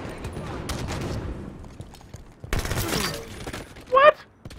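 Halo 5 arena multiplayer gunfire, with bursts of rapid shots and a shotgun blast among game effects, a rising electronic chirp near the end, and a voice talking intermittently over the action.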